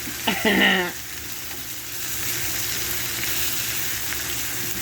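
Butter melts in a hot pan with a T-bone steak, producing a soft, even sizzle that carries on steadily after a brief voice at the start.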